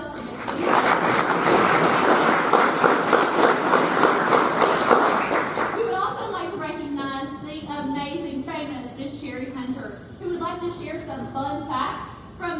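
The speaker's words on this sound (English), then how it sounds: "One more round of applause for Ms. Penny Payne." A school board meeting audience applauds for about six seconds, a dense, steady patter of many hands, before a voice begins speaking over the fading room.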